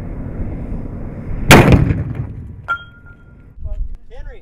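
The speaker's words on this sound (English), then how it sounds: "The force of the explosive has shot the copper deep into the layers of steel." An explosive charge detonates at a test pad, driving a copper jet into stacked steel plates: one loud, sudden blast that decays over about a second, followed by a metallic ring and faint clinks. Voices are heard nearby.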